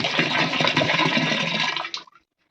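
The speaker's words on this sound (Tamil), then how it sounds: "அடுத்து ஈயம் தாய் திரவத்தை உள்ள ஊத்துறோம்." Liquid EM mother solution pours steadily into a barrel, a continuous splashing gush for about two seconds that cuts off abruptly, followed by a few faint drips.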